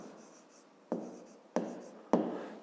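A pen writing by hand on paper, with three sharp strokes that each fade out, heard up close in a quiet room without speech.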